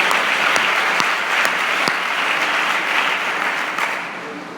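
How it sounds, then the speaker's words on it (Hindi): A church congregation claps for the Lord, loud sustained applause from many hands filling the room before slowly tapering off. "Let's give a clap of to the Lord."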